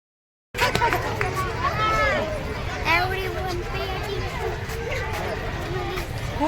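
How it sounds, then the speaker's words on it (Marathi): Large crowd at Saras Baug park in Pune on a busy Sunday, a dense babble of many voices with children's shouts and footsteps, loud and continuous with nearby talk mixed in. "खूप गर्दी आहे बाबा इथे."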